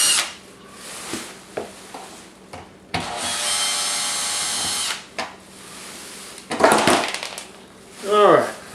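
Power drill backing Phillips head screws out of a GE dishwasher panel, one steady whirring run of about two seconds between shorter bursts and clicks, with someone talking around it.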